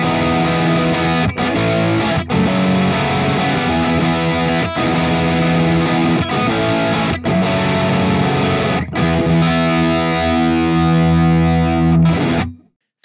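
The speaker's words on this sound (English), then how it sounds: "what it would sound like with some distortion" A distorted electric guitar played through a compressor pedal plays sustained chords and notes, loud and compressed, with brief gaps between phrases before a final ringing chord cuts off.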